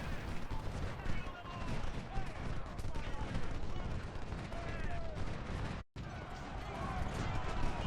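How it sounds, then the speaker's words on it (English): Maynard carbines fire in Ultimate General Civil War as a dense, continuous crackle of massed musketry under battle noise, steady and loud with a brief dropout near the end, while a voice talks over it. "the Maynard is going to come in and get some nice shots on people"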